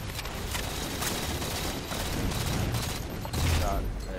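Rapid gunfire rattles around the player during a Neutral Flag match on the Exile map in Halo 4, a dense fusillade of repeated shots with a louder burst near the end, under a game soundtrack and speech.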